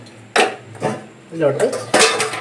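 A wheat porridge mixture is stirred in a vessel with a utensil, giving several distinct clattering scrapes and knocks in uneven bursts at close range.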